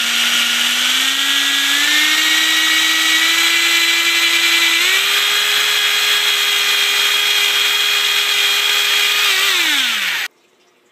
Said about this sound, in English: Use a drill bit that's wide enough to let them kind of go through the board easily